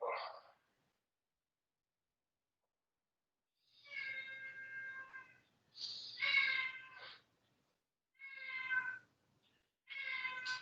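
A male cat meows repeatedly in a quiet room, four or five drawn-out, plaintive cries separated by pauses, moderately close and alone.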